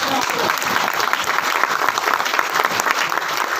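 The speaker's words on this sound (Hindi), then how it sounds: "एक बार जोरदार तालियां बजाओ।" Seminar audience applauding loudly and steadily, a dense wash of many hands clapping at once that carries evenly through the whole stretch without a break.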